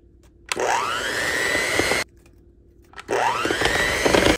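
Electric mixer whirring in a bowl of ice cream base with dry ice: two loud sustained bursts with a rising whine as the motor spins up, separated by a short quiet pause.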